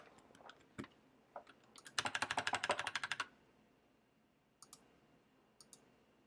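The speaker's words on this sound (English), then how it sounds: "Why is my keyboard not working?" Scattered clicks of a computer keyboard, then a quick burst of rapid typing strokes, followed by a few isolated key taps in a quiet room.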